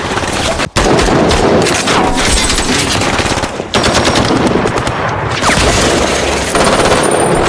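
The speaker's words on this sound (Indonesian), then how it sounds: "Dalam baku tembak yang intens" Intense gunfire rattles through a shootout in an action film, with dense rapid machine-gun bursts and gunshots that are loud and nearly continuous, with only brief breaks.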